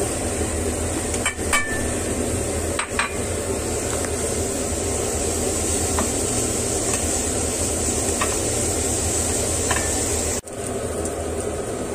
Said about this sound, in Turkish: Ardından biberlerimizi ve havucumuzu atıyoruz.